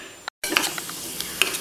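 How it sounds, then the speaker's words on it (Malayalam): Brief dry scraping and rattling clicks of powdered sugar and semolina being stirred in a warm pan, soft close-up scratches after a short silent gap. "അതും റവയും കൂടി ചീനിച്ചട്ടിയിലിട്ട് ഒരു ഇളം ചൂടിൽ ഒന്ന് മിക്സ് ചെയ്ത് കൊടുക്കുക"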